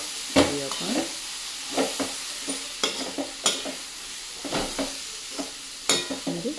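Soaked rice is stirred into masala in a pan for soya pulao, sending out repeated scraping stirs over a soft sizzle in an irregular rhythm. The sound is close and moderately loud, with no talking.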